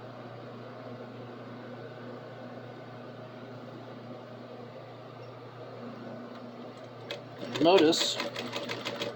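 A sewing machine topstitches an apron a quarter inch from the edge with a steady, close whirring drone for several seconds, then stops and a voice speaks briefly.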